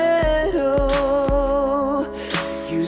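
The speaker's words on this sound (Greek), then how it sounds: "Το κομμάτι με αυτά τα drums και το πιάνο ακούγεται κάπως έτσι" Piano chords ring out over a modern pop drum pattern of deep kicks and bright snare hits, sustained and loud, in a short musical passage.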